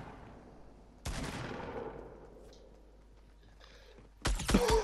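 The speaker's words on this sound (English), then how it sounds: "Getting shot from the left." Gunfire in Fortnite: a sudden loud shot with a long decaying tail, a quieter stretch with faint sounds, then another loud burst of rapid fire at the end.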